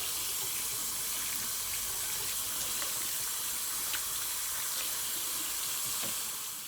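Dried red beans are rinsed under running tap water, a steady, even splash of water that flows throughout with no talk over it.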